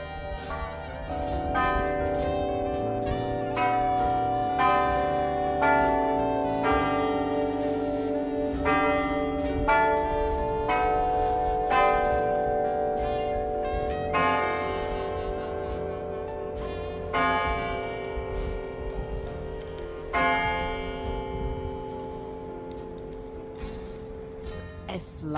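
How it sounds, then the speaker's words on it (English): Large tower bells ring loudly and continuously at the Stephen Foster Folk Culture Center in Florida, struck in a steady overlapping peal with long resonant tails. "The bells are going off."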